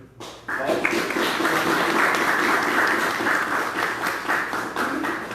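An audience bursts into steady, dense applause after a lecture on light and quantum physics, the clapping starting abruptly and holding loud and even for several seconds.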